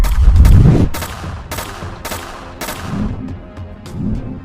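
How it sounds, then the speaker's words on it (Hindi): A blasting gun fires in an animated action story, opening with a loud rumbling burst and then a string of sharp, rapid shots that fade into lower echoing booms. "फातिमा ब्लास्टिंग गन से फायर करने लगती है"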